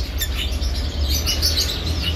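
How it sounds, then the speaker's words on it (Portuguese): A pair of red-rumped parrots, an opaline blue male and a cinnamon female, chirp in quick, high, bright tweets over a steady low background hum. "Casal de Red Humped. Macho opalino azul com fêmea canela."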